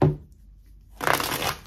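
Tarot cards are shuffled at close range: a short riffle at the start, a quiet pause, then a longer, louder riffling burst.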